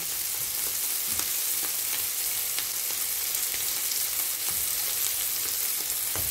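Butter sizzling in a pan with chicken hearts and mushrooms, a steady dense frying hiss with faint crackles and occasional stirring, no voices.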